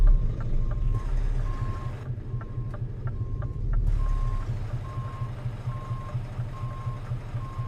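A truck in the Euro Truck Simulator 2 video game reverses, its alarm repeating a steady series of evenly spaced single beeps over a low, continuous engine rumble, loud and close throughout.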